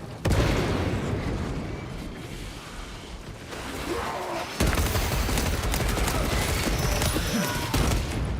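A frag grenade goes off in the Warhammer 40K Space Marine video game amid dense, loud combat, with booming bursts near the start and again midway over continuous gunfire.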